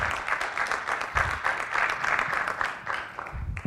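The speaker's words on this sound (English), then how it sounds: "Let's give a round of applause for the panelists." Scattered applause from the audience at a neurofibromatosis patient forum, uneven and moderately quiet clapping that swells and thins over a few seconds.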